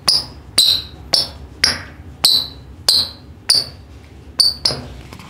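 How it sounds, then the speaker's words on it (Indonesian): Nike Vapor 15 Club futsal shoe handled up close, giving about ten sharp squeaky clicks at a fairly even pace, each a crisp bright snap with a short decay. "oke, sepatu ini bunyi ya King"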